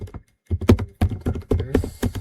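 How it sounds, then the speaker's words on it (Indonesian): Close, crisp keystrokes on a computer keyboard, a short burst of several clicks and thumps in uneven rhythm after a brief pause, with no talking. "Ketik di sini"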